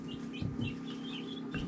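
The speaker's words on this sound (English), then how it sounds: "we have chickens hatching inside that hatcher" Newly hatched chicks peep and chirp inside an incubator hatcher, thin high calls repeating irregularly, with a few low clucking sounds mixed in, quiet and near.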